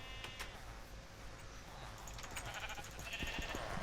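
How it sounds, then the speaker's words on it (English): Sheep bleat in the Minecraft video game, several wavering calls over a steady noisy background that grows slightly louder toward the end. "I hope the Iron Golem doesn't mind me killing sheep."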